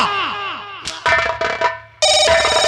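A telephone rings in repeated bursts, its bright electronic tone cutting in and out, with a short sharp clatter midway.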